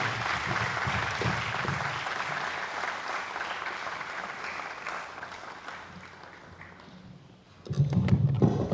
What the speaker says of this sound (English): Another round of applause for Vice Chancellor, Professor Mrs. Leta Akosia Dixon.